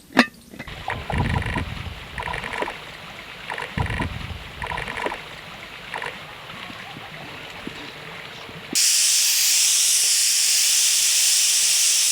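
Soaked chickpeas boil in a salted pot, first a rough bubbling rumble with intermittent clatter, then a loud, steady hiss of escaping steam that takes over abruptly and continues to the end.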